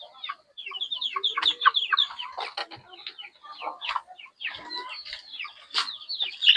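Rhode Island chickens cluck and squawk near and far at a backyard egg-laying spot, with overlapping bursts of bright calls that run with almost no break.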